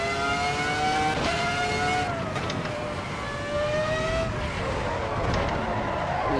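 A Formula 1 car in Assetto Corsa EVO on the Mount Panorama circuit revs hard, its loud high engine note climbing and falling through gear changes after a slide into the barriers.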